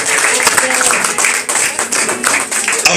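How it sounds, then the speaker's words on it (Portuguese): A church congregation applauds during a service, a dense, continuous patter of clapping close by, with a voice speaking over it. "Aplauda Jesus."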